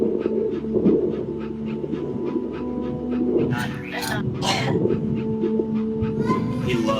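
A little dog pants and whimpers softly in That Dragon, Cancer, with steady breathy huffs and occasional high whines running under a person talking.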